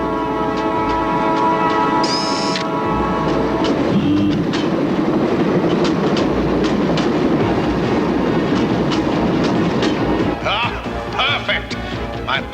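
A train rumbles along continuously with a rhythmic clickety-clack, a brief horn-like tone early on, and shifting mechanical clatter near the end.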